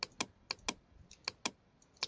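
Bracket keys on a computer keyboard are tapped about eight times in an uneven rhythm, crisp close clicks with quiet gaps between them.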